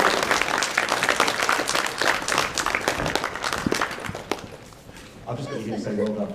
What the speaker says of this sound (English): A round of applause for our therapists.